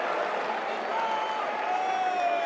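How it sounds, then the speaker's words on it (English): A large arena crowd at an esports tournament roars and applauds in a dense, continuous wave of cheering after a kill, loud and sustained throughout. "every time they get a kill, the crowd just erupts"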